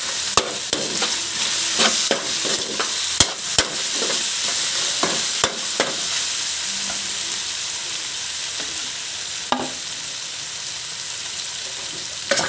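Meat sizzles and fries in a pan with chicken cubes while being stirred, a steady bright hiss broken by frequent scraping clicks and knocks of the stirring utensil, close up and without talk.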